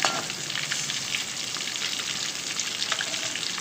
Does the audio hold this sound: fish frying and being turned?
yes